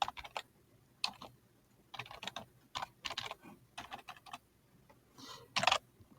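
Fingers tap a computer keyboard in irregular bursts of crisp clicks separated by short pauses, close and fairly quiet, with no speech.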